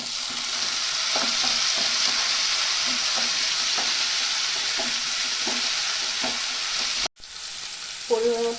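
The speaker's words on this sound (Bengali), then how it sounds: "এখন টমেটো কুচানো দিয়ে দিব।" Chopped tomato fries in a hot pan over an onion, ginger and garlic base, with a loud continuous sizzle and a spoon stirring in repeated taps and scrapes at close range.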